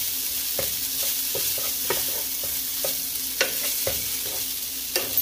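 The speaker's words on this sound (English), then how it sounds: "Go ahead and stir that in there." Rice for arroz mampostiao sizzles steadily in a pan while a utensil stirs it, scraping in irregular strokes close by under a constant frying hiss.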